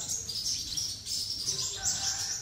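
A caged sunbird sings in a bird shop: rapid high, thin chirps and twittering trills, continuous and fairly close against faint background noise.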